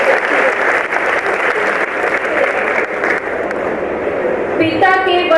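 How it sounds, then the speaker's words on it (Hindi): Audience at a Hindi poetry recital claps in steady, sustained applause, a continuous even roll of many hands with a voice breaking in near the end. "एक बार मैं चाहती हूँ आप लोग तालियां बजा करके"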